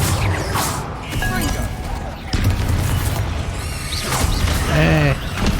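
Fire spell Incendio cast in Hogwarts Legacy, loud bursts and crackling magical effects mixed with combat booms and creaks, with a player voice talking over the action throughout.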